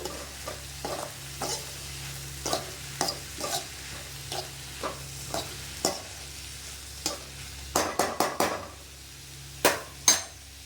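Vegetables with turmeric being sautéed in a pan, with a steady sizzle under repeated scraping clinks of a utensil against the pan.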